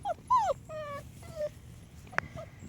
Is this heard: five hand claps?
no